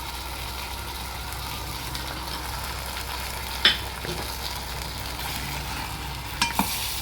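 Chicken being stirred in tomato puree with crushed black pepper and red chilli flakes in a pan, a steady low sizzle with a few sharp scraping clicks of the spoon, close and without talk.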